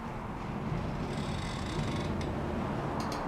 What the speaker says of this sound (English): ambiences closer to the structure have creaks and groans